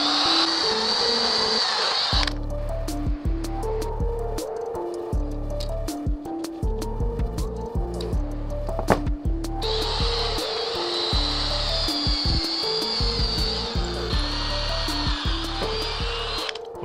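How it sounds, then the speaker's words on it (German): A power drill with a 6 mm bit pre-drills a wooden beam for a beehive stand, a loud close motor whine that winds up and down in bursts, with the bit grinding through the timber. "Und einmal mit dem 6 mm Bohrer vorbohren."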